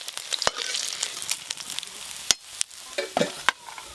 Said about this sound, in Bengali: এই কাঁটাগুলো লাল লাল করে ভেজে নিয়েছি